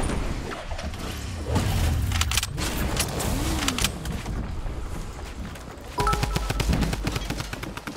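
Rapid bursts of gunfire in Fortnite crack out in quick succession over a steady game background, loud and close, with denser volleys near the end.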